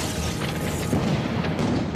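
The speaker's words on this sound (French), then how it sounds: "Mortier, lance-mines, canon de 88." Heavy wartime artillery, mortar rounds or an 88 mm cannon, rumbling as a dense continuous barrage of deep booms with no clear gaps between blasts.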